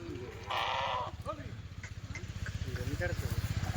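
A group of Kathiawadi goats gives one loud, close, sustained bleat, followed by a rhythmic engine-like thrum and a few shorter calls while a person talks nearby.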